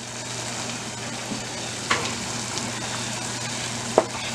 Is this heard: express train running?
no